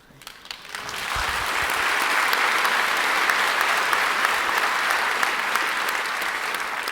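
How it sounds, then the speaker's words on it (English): A crowd breaks into sustained applause that swells within the first second and holds steady and loud for several seconds. "you're getting more applause than anybody the whole day"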